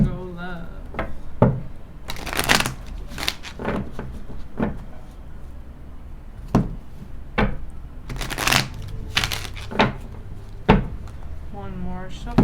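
Tarot cards are shuffled by hand in repeated crisp riffling bursts and soft slaps, close up, between and over short stretches of a voice talking.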